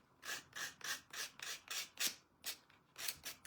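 A wooden bunny figure is sanded by hand, giving a rhythmic series of about ten short, close, raspy scrubbing strokes at an even pace, fairly quiet and without talk.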